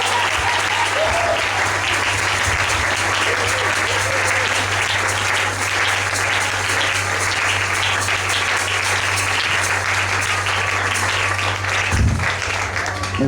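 A church congregation applauds steadily, with loud sustained clapping and crowd noise and a low steady hum underneath; there is no break for the full length, and one louder burst comes near the end.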